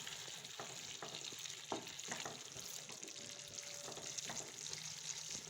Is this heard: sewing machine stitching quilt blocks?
no